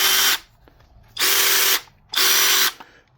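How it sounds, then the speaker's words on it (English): A cordless 3/8 inch power socket wrench with a lockout switch whirs in three loud, even bursts of about half a second each, separated by short pauses, heard close up with no talk. "This is a 3/8 inch, whoops, 3/8 inch socket wrench."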